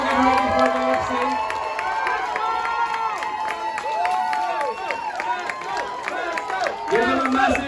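A crowd at a live competition show cheers and screams loudly and continuously, with scattered clapping and excited shouts rising and falling throughout, and a voice speaking briefly at the start and end.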